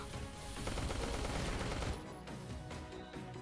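In the video game Neon Chrome a burst rifle fires in dense, rapid volleys for about two seconds, loud and close, before fading into quieter game noise.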